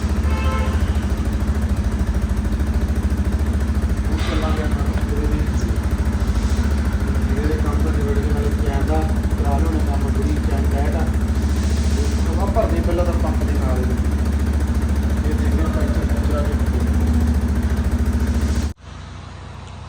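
A motorcycle engine with its silencer fitted runs steadily at a constant idle drone throughout, loud and close, with indistinct voices talking over it before the sound cuts out near the end.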